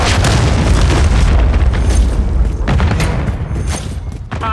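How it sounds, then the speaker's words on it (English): A cruise missile explosion in Call of Duty, a loud, close, sustained boom with rumbling debris that slowly fades over a few seconds. "Cruise missile."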